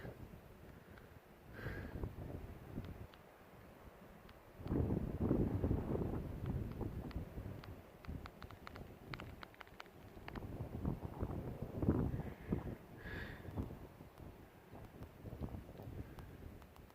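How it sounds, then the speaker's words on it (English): Gusting wind on a mountain trail near Bailey Lake buffets the microphone in strong surges, rising and falling over a steady outdoor rush; no one speaks. "And it is definitely getting windy and cold."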